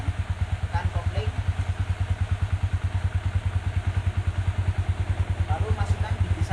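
A Yamaha Vixion motorcycle engine idles in neutral, a steady, close, pulsing low thrum with even rapid beats throughout, and a person speaks over it.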